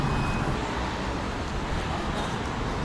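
Rush-hour street traffic in Alanya, Turkey, makes a steady, moderately loud roadway rumble of cars and buses passing nearby, with no voices over it.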